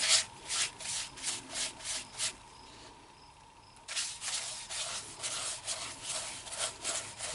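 A cherry wood bowl being sanded on a lathe: a steady, quiet rubbing hiss that pulses in regular strokes, pauses briefly, then resumes with the same rhythmic scratchy sweeps.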